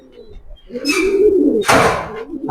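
Racer pigeons coo close by in two soft, throaty bursts, with rustling in between.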